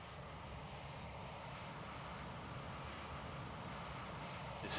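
Steady aircraft engine drone from a nearby plane in X-Plane 11, with a Challenger 650 at the field; a constant, moderately loud hum with no talking over it.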